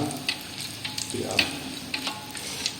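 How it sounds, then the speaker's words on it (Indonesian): Hot oil crackling and sizzling as battered shrimp tempura fry, with bright popping bursts and a quick stir, close and lively. "Kita coba goreng satu persatu."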